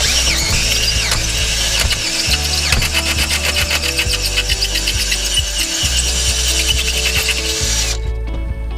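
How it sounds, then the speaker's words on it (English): A power drill with a 21/64 bit enlarges a bolt hole on a 1990 Jeep Wrangler YJ, giving a steady, close whirring grind under background music for most of the clip before stopping abruptly near the end. "Now this is a 21/64 drill bit, just slightly bigger than the bolt because it is hard to get it through this hole."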